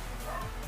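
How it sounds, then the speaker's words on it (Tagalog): A dog yips and barks briefly twice at a distance over constant low-frequency background noise, with no one speaking. "maingay yung mga aso"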